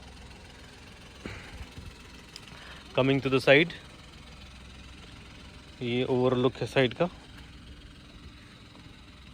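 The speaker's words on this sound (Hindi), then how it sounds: "आप इसको थोड़ा बहुत नॉइज़ आ रहा है इसमें, 1 लीटर होने के कारण थोड़ा बहुत नॉइज़ी है।" A Kia Sonet with a 1-litre turbo petrol three-cylinder engine idles with a low, steady hum, while someone speaks over it in two short bursts.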